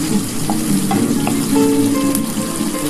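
Onion, garlic, nigella seeds and dry chilli fry in oil for a beetroot mash, a continuous close sizzle with light spatula stirring and small pops throughout, no voice.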